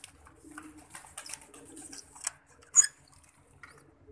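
Pigeons in a breeder's loft, including a paired Ferozpur female, make soft, low intermittent coos mixed with rustling, shuffling and a sharp flutter or knock nearby.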